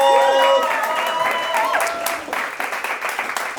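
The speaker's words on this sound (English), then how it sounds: "Big applause for Martinkenaite, Lina, and Chester Whitmor" An audience claps and cheers while several voices call out over it, the applause thinning into scattered individual claps toward the end.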